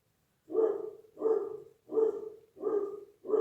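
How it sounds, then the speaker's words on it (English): Dogs bark at a passing cat in a series of five loud, evenly spaced woofs about every half second, close by with no other sounds around them. "Dogs are going nuts again."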